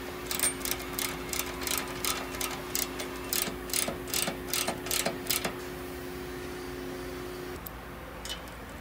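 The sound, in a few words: ratchet tightening hinge bolts on a Jeep tire carrier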